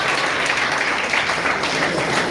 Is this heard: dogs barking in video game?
no